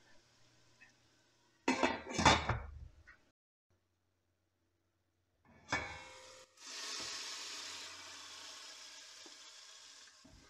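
Onions frying in a pan, soft sizzling that rises in short bursts with stirring and a clink of utensils, then a steady quieter sizzle, close by with no talking.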